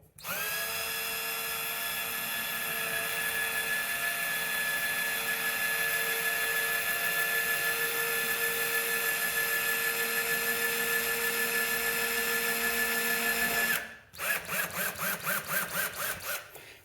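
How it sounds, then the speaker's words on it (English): A power drill whines at a steady high pitch for several seconds, close by, then shifts to a pulsing, stuttering grind as it bites through drywall into a wood stud. "we're going to be drilling into a wood stud"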